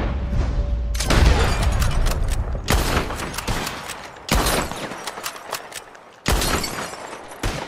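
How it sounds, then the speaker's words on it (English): Gunshots at bottles in a Red Dead Redemption 2 shooting challenge, several loud, sharp blasts spaced about a second or two apart, each trailing a short ringing decay, with a game soundtrack underneath. "Just draw your gun and aim when you're ready, all right? Shoot!"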